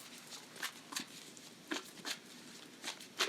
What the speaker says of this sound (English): Give it another shuffle this way.